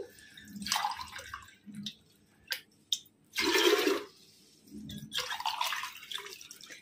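Water poured into a pot of rice, about 1.5 litres onto half a kilo of grain, for holiday prasad cooking: three loud rushing, splashing pours with short quiet gaps between, close by.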